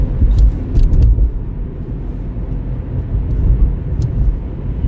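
A car engine runs close by, giving a loud, steady low rumble that holds for the whole stretch. A few sharp clicks sound above it, and no one talks.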